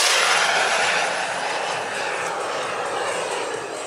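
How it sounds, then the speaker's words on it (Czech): A jet aircraft accelerating at an air show over the Czech Heaven airfield in Ivančice, a loud, broad roaring whoosh that is strongest at first and then holds steady as a sustained engine rush. "Akcelerace toho letounu."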